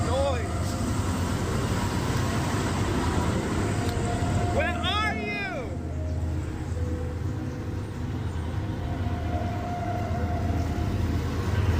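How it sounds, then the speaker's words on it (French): Sirens heard from a boat in the middle of the sea: a continuous droning rumble with a cluster of rising and falling wailing tones in the middle, fading back into steady noise. "Un mec se balade tranquillement sur la plage quand il a l'impression d'entendre des sirènes."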